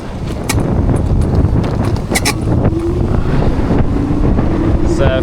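Strong wind buffets the microphone outdoors in Dublin, Ireland, with a loud continuous rumbling roar and gusty thumps across the whole stretch, no clear talking.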